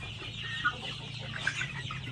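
Chickens in a backyard broiler coop, a few soft clucks rising over a steady low hum, faint and somewhat distant.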